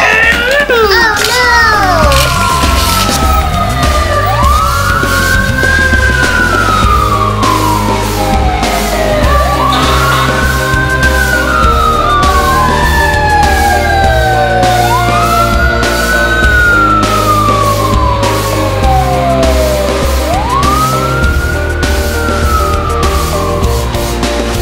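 Fire engine sirens wailing in repeated rising and falling sweeps along a street, loud and close, with children's voices and chatter mixed in beneath them.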